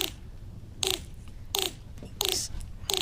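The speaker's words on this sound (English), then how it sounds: "The actual roadrunner sounds like this." A roadrunner's call: four short, sharp clattering bursts spaced evenly apart, a dry rattling or clacking sound, with quiet gaps between them.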